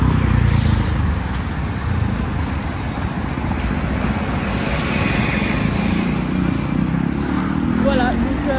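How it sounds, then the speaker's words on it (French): Heavy car traffic along a big city avenue in Santiago, a continuous loud roadway rumble of passing vehicles filling the whole stretch, with someone talking over it. "En plus il y a beaucoup de voitures là, c'est sur une grande avenue."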